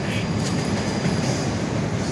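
A train rolls past beside the São Caetano bus terminal on a Sunday afternoon, a loud continuous rumble of wheels and carriages close by, steady throughout the short stretch.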